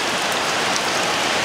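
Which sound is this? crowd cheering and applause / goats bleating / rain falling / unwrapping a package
rain falling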